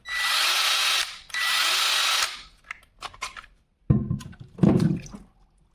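Two bursts of an Einhell TE-AD 18 Li cordless angle drill whining at full speed, each about a second long, followed by clattering handling noises and a couple of knocks.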